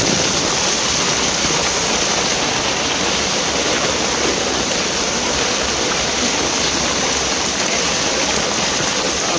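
Floodwater rushes near a village temple during heavy monsoon rain, a loud, unbroken roar of flowing water and downpour filling the whole clip without pause, no voices.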